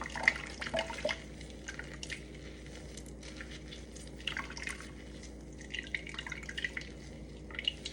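Almond milk dripping and trickling while the pulp-filled straining bag is squeezed, with soft wet squishes and scattered drips over a low steady background hum, fairly quiet and close.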